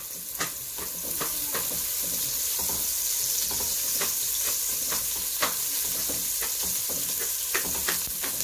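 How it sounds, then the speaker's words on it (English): Chopped red onions fry in a little oil on a stove, giving a continuous close sizzle with occasional stirring scrapes and clicks throughout. "So onto our stove, we've put our red onions chopped, and now I'm adding just a little bit of oil"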